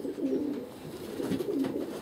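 A pigeon coos in low, soft repeated phrases, a gentle warbling throb that rises and falls several times, close and fairly clear with no talking.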